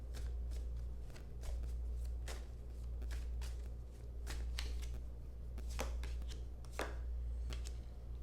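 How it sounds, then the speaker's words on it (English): Guidance cards being shuffled, a run of crisp riffling bursts repeating at a steady pace, close and fairly quiet over a low hum, with no talk. "So we're going to go ahead and pull a couple of guidance cards here."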